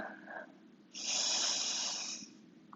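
A long, deep exhale during a yoga forearm balance flow, a steady airy rush lasting over a second after a softer breath, close and fairly loud with no talk.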